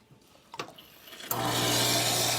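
An Expobar espresso machine dispenses hot water: after a few small clicks and knocks, a loud, steady rushing hiss of water and steam starts abruptly and continues to the end, with a low pump hum underneath.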